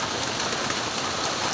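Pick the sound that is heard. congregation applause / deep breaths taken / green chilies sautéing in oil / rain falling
rain falling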